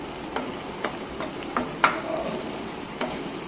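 Fish head paste made from Bombay duck frying in a pan, with periodic scraping strokes of a spatula every half second or so over a soft, steady sizzle, close up and without voices.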